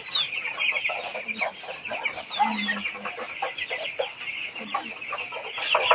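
Many broiler chickens cluck and chatter continuously at close range in a farm shed, a dense, busy flock filling the space with overlapping calls.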